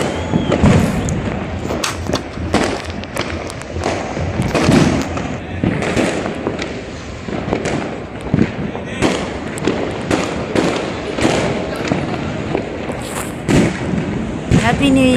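Fireworks burst at a New Year celebration, with repeated loud cracks and booming thuds going off in irregular succession, some near and some farther off, while people talk throughout.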